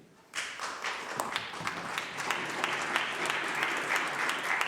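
Members of a legislature applaud during question period, with dense, steady clapping and some desk-thumping that starts abruptly and continues throughout at a moderate level.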